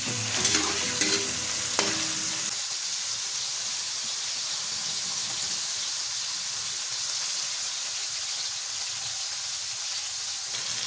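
Chicken liver adobo frying in a pan with a constant sizzle and hiss, a few stirring scrapes and clinks near the start, then steady frying alone.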